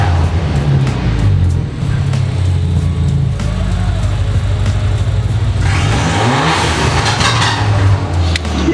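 A BMW F30 320i with a BM3 tune and downpipes revs hard, a loud, steady engine drone swelling into a higher-pitched rev with crackling exhaust burbles and pops near the end.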